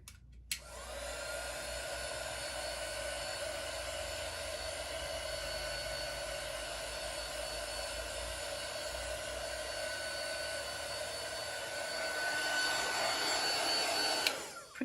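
A heat tool blows steadily while drying damp VersaMark ink for heat embossing, a constant loud whooshing hiss close by that swells slightly near the end before cutting off abruptly, with no talking.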